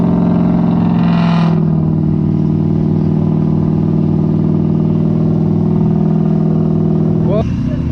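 A Jeep Gladiator engine holds a loud, steady revving drone under throttle for most of the clip, with voices speaking over it near the start and end.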